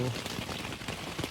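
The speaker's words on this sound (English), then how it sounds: "it's raining." Steady rain patters on a surface during a backcountry camping trip, a constant wash of drops that stays even from start to finish.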